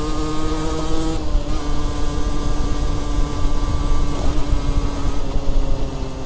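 A Derbi Senda SM50 Extreme moped, about a 2010 model, rides along with a steady, buzzing two-stroke drone held close and loud, its pitch nearly even throughout, with no voices.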